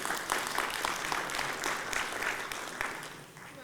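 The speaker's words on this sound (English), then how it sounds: "let's give her a round of applause" An audience at a conference session applauds a volunteer coming up, a steady crowd of clapping hands, fairly distant and moderately soft, tapering slightly at the end.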